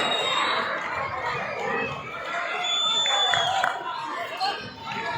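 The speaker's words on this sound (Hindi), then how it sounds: "अगर रैली का मजा आया तो दोनों टीमों के लिए जोरदार तालियां हो जाए" Crowd at a Pakistan Army versus Pakistan Navy match in an Islamabad sports complex claps and cheers for both teams, a sustained mix of applause, shouts and chatter under a loud hall ambience.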